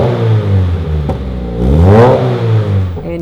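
Car engine revving through an MXP Comp RS exhaust with titanium tips, rising in pitch, falling back, then climbing to a loud peak before settling, with a brief clack and rattle along the way.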